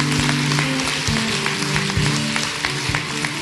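A church congregation claps together in praise, a steady dense patter of hands alongside a rhythmic musical backing.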